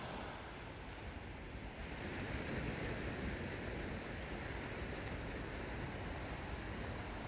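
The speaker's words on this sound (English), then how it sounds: "Yeah, the wind is picking up a little bit. You're getting a little bit of a chop." Wind and choppy sea break along the shore at Kirkcaldy, a steady faint wash of surf and gusting air with broadband rumble and no voices.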